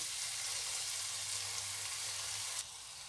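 Keema frying in a pan with tomato sauce, a loud, close, continuous hiss and crackle of sizzling that drops off suddenly near the end, with no voices.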